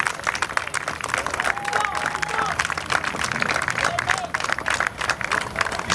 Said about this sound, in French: Merci, on applaudit très fort, on applaudit